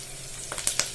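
Curry leaves dropped into hot oil already frying with ginger and garlic, giving a steady sizzle with a few sharp crackling pops near the end.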